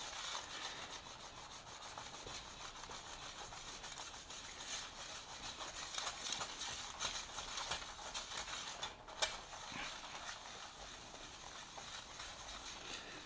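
Muller grinding yellow buckthorn lake pigment (Dutch pink) into oil paint on a slab, a quiet, steady rubbing and rasping scrape that runs continuously with small irregular pulses and no voices.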